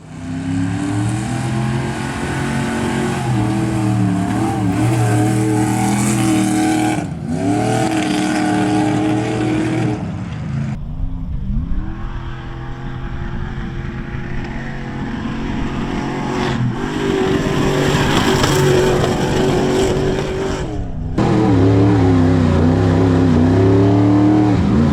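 Off-road race car engine roaring through a qualifying lap at King of the Hammers, loud and close throughout, revving and climbing in pitch with brief cut-offs and shifts, no voices present.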